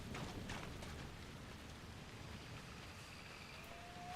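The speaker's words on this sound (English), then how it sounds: "You think Perlo likes this place because it's raining" Steady rain falling in the Dragon Age: Inquisition video game, a constant broadband hiss of rainfall with no talk, evenly sustained throughout.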